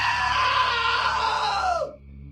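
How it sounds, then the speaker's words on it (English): A long, loud scream from a character in the video game What Remains of Edith Finch, held for about two seconds and then cut off sharply into near silence. "Now that was a great scream."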